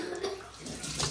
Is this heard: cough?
no